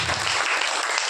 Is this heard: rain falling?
no